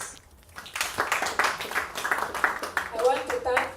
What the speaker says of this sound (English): Please, let's clap for BEX.